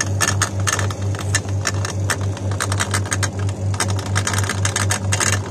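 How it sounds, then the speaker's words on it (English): A twin-tub washing machine's drain motor runs close by with a steady low hum and a rapid, regular ticking or rattling pulse, alongside irregular clicking and clattering. "So it's coming from this motor."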